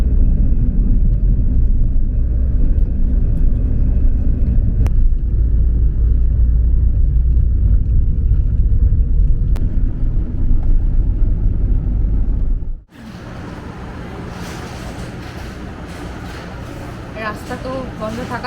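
A car cruising on a monsoon road trip from Kolkata toward Keonjhar, with a steady low engine and road rumble from inside the cabin that abruptly drops and shifts to a thinner, brighter road noise near the end.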